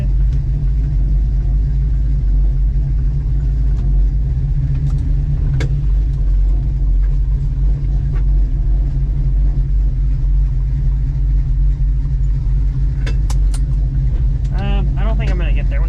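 A 1967 Chevrolet Nova idles with a low, steady engine rumble while being maneuvered back and forth, with faint clunks and brief higher squeaks near the end.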